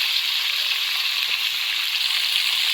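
Cauliflower and potatoes fry in oil in a pan for a rohu fish curry, a loud, even, continuous sizzle heard close up with no voices.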